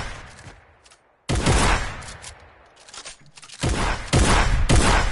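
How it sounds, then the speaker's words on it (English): A combat shotgun fires in Fortnite Battle Royale: loud, sharp blasts crack out in quick bursts separated by brief pauses, punchy and close, with a burst of rapid shots near the end. "You're gonna take a shot and reload and try to and spam the fire button."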